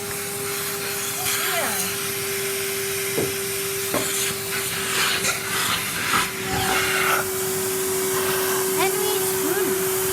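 A Henry vacuum cleaner strains while sucking up wood shavings, giving a steady whining motor tone under broad rushing hiss, with scattered clicks and rattles of debris being drawn into the hose.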